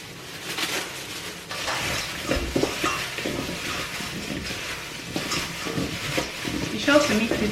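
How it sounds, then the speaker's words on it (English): Gloved hands toss and squeeze spiced potatoes in a bowl, giving a steady, close rustling and squishing with soft knocks and brief louder scrapes, alone without talk. "I'm going to wear my gloves again and mix"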